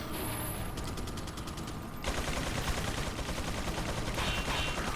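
Rapid machine gun fire from a mounted gun emplacement in the video game Resident Evil 4, a dense, sustained rattling chatter that grows louder and fuller partway through and continues to the end, with no talking over it.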